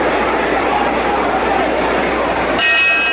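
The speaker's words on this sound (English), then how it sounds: "There's the bell for round 2." A boxing ring bell rings to close round 2 of a Muhammad Ali fight against Ernie Terrell, sounding near the end as a bright metallic ring over loud, steady crowd noise.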